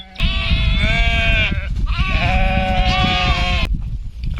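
Sheep bleat loudly and close by at a village home, two long wavering calls one after the other, with no talking.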